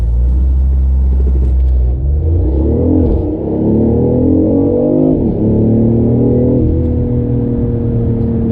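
A tuned BMW i8 sports car launches hard from a standstill in a 0 to 60 run, its engine rising in a loud, close rumbling roar that dips briefly at shifts before climbing again.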